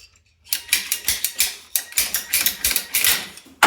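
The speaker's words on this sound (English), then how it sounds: "So we're gonna cut off maybe this much." PEX-B water pipe is cut with a hand cutter, producing a close series of quick sharp mechanical clicks in an even rhythm, with a short pause midway and a final snap.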